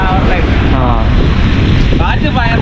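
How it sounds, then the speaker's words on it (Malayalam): Strong wind blasts across the Thottappally spillway in Alappuzha, a constant loud roar and microphone buffeting that partly masks voices speaking nearby. "ഭയങ്കര കാറ്റല്ലേ?"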